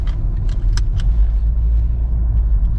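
A Mercedes E270 CDI fitted with a hybrid turbo drives on a road test, heard from inside the cabin as a steady deep rumble with a few light clicks and rattles early on.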